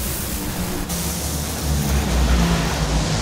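A nitro drag racing car launching hard off the line at a drag strip, heard as a loud, continuous roaring blast of engine noise that swells and grows stronger partway through, with no voices over it.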